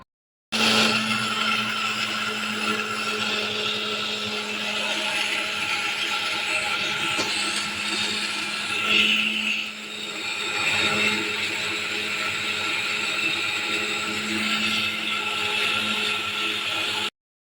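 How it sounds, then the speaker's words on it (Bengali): A kitchen mixer grinder runs steadily, grinding soaked and sun-dried rice into flour, a loud, continuous motor whine that holds for the whole stretch with a brief surge midway. "আর এখন করছে মিক্সিতে চালের গুঁড়ো।"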